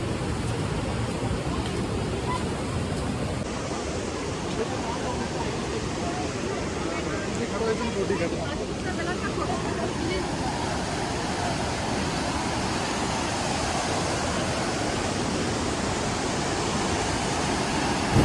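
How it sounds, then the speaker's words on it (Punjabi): Fast snowmelt mountain stream on the trekking route to Hemkund Sahib in Uttarakhand, a loud, continuous, close rushing roar of water with no pauses throughout. "ਦੇਖੋ ਜੀ ਕਿੰਨਾ ਤੇਜ਼ ਹੈ ਬਰਫ਼ ਵਾਲਾ ਪਾਣੀ ਆ ਰਿਹਾ"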